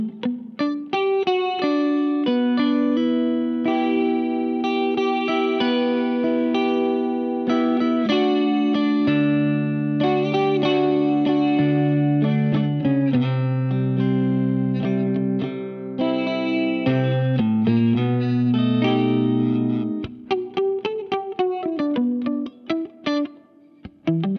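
A Squier Paranormal Jazzmaster XII twelve-string electric guitar plays distorted chords and sustained notes through effects with chorus and reverb, loud and continuous, ending in choppier strums, with no voices.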